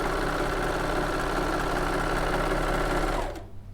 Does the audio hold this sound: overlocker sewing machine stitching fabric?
yes